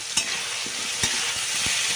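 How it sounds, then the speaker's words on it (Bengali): Grated ginger and tomato frying with potatoes in a pan for a vegetarian dish, a steady hissing sizzle with a few sharp stirring taps, close and without speech. "আলুর সাথে ভাজা ভাজা করে নেবো"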